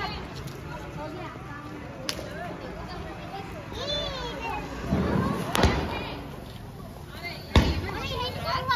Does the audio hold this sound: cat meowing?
no